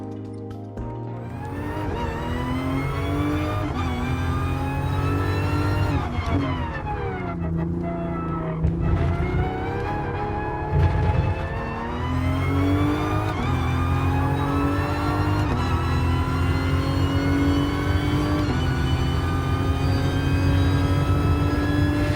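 In Gran Turismo Sport, a road car's engine drones steadily, its pitch sliding up and down through gear changes over a long, continuous stretch, loud and close with no talking.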